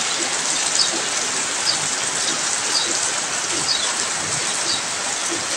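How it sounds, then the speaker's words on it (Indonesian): Steady rain falls on a morning in Siliwanga village, in the mountain-ringed Napu valley of Central Sulawesi, as a loud, even, close hiss of drops spattering on surfaces. "tiada hari tanpa hujan, teman-teman. Curah hujannya cukup tinggi."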